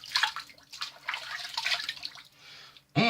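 Water splashed onto a face with cupped hands before a shave using a vintage 1952 Gillette Ball End Tech razor, heard as close, irregular wet splashes and drips, followed by a sudden louder burst at the end.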